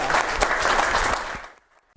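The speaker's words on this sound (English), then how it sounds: "we want to give you another round of applause" Audience applause for a panel at the close of a talk event, a dense burst of clapping that fades out after about a second and a half, leaving near silence.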